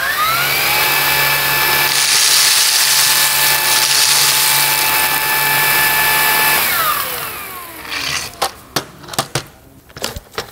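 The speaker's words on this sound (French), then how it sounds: "vous entendez la brosse? On va juste mettre une fois le turbo pour que vous compreniez." A cordless stick vacuum cleaner runs with its brush head in turbo mode, a loud, steady whine with a buzzing roller drone that holds for several seconds. The motor then winds down, followed by a few sharp clicks and knocks.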